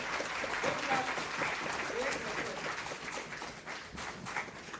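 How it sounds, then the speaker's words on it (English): A lecture audience applauds at the close of a university talk on federalism, sustained, fairly dense clapping that holds steady and thins slightly toward the end. "Big claps, big claps."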